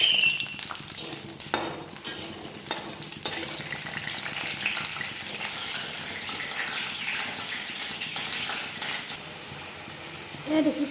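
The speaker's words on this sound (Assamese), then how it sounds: "গৰম হ'ব দি মই আলুকেইটা অলপমান তেলতে ফ্ৰাই কৰি ল'ম।" Potatoes frying in a little hot oil, a steady broadband sizzle with faint stirring clatter running throughout, fairly close and even in level, with brief knocks near the start and end.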